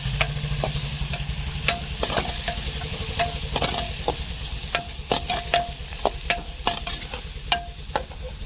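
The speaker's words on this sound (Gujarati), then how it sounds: "હવે આપણે એમને હલાવી દઈએ" Setuda chillies sizzle softly in a hot pan while a spoon stirs them, with irregular scraping taps against the metal over a constant low frying hiss.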